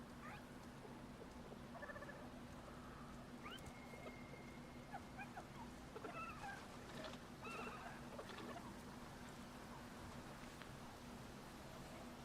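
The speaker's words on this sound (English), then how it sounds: "Is that the horses?" Horses neighing in a video game, faint and some distance off, several short whinnies scattered through a low steady background hum.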